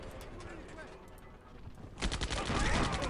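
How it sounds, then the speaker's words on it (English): Artillery shelling in the strategy game Civilization 4, a dense burst of rumbling gunfire-like blasts that swells louder in the second half, with faint talk underneath. "Artillery shelling. More artillery."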